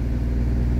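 A car's engine with an IAB secondary butterfly valve setup hums steadily and loudly at a held mid-range rumble, close and continuous, with no talking.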